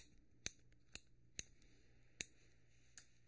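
Crisp clicks from a Civivi pen's push button, five sharp separate snaps spaced unevenly over a few seconds, close to the microphone against a quiet background with no talking.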